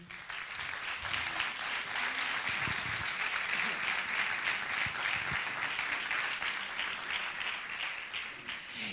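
Steady, even applause fills a conference hall as an audience claps for the town mayor of Bormujos, a dense continuous patter at moderate distance that holds for nearly nine seconds.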